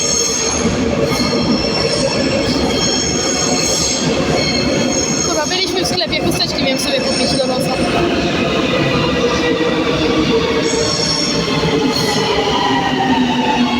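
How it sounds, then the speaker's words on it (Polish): A metro train pulls out of a station with steady rumbling, rattling wheels and a long metallic squeal, loud and close, while someone talks over it. "Patrzcie, moje metro. 62 wyjeżdża."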